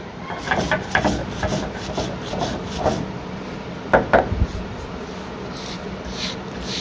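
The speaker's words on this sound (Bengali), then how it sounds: "এবার মশলাটা আমি গুঁড়ো করে নিচ্ছি পাটাতে।" Spices ground by hand on a stone grinding slab (pata), with a repeated scraping, rubbing rasp of stone on stone in steady strokes, close and moderately loud, and no talking.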